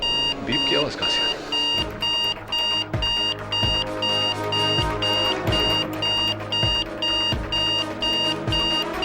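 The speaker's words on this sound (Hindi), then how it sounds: "बीप की आवाज कहां से आ रही है?" Rapid electronic alarm beeps repeat in a steady, regular pulse for the whole stretch, loud and close, while people talk over them during a courtroom drama scene.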